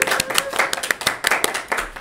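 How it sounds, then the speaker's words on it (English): A small group claps for a student at a school spotlight announcement, with distinct, close hand claps in an uneven rhythm over about two seconds. "Let's give her a round of applause."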